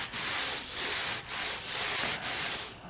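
Saddle soap rubbed by hand onto a leather knife sheath, heard as close, steady scrubbing strokes in a repeating back-and-forth rhythm, about four passes, with no talk.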